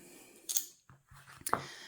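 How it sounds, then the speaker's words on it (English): Scissors cut the label off an embroidery hoop with two close, crisp snips about a second apart, heard near and alone in a quiet room. "You may want to use a pair of scissors for this."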